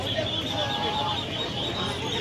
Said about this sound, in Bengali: এখানে দেখো সব পাতি হাঁস এখানে রাজহাঁস আছে